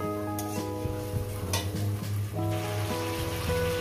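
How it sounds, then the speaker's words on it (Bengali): Spice paste for a Bengali fish curry sautés in a pan over a medium gas flame, a steady close sizzle broken by the scrape and clink of stirring, with a faint tonal hum running underneath and no talk. "মশলা বাটির জলটা দেওয়ার পর আমি এটাকে আরো মিডিয়াম গ্যাসে আমি রান্নাটা করি বন্ধুরা, আরো 2 মিনিট কষিয়ে নিই।"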